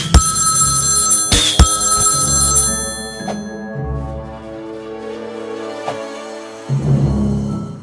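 Payphone in the video game South Park: The Stick of Truth rings loudly with a bright electronic telephone bell, bursting and then sustaining in the foreground over game music and effects.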